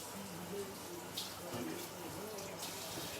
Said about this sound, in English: just gonna wash my knife.